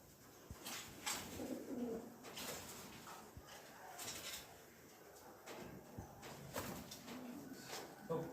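Fancy pigeons coo softly in repeated low calls, faint and close, with scattered knocks and quiet murmuring voices in the background.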